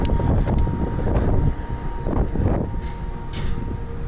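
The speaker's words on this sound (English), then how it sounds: "Wind must be blowing a few kernels out." Steady wind gusting across the top of a combine harvester during a corn harvest, a loud continuous rushing buffet with swelling gusts and no speech.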